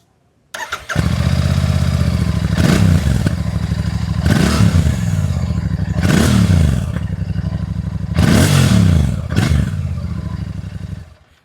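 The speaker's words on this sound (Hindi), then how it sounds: "तो अब बारी है GT 650 के एग्जॉस्ट नोट की।" A Royal Enfield GT 650 parallel-twin motorcycle exhaust, recorded close and loud, settles into a steady idle, and five sharp throttle blips rise and fall in turn before the engine shuts off.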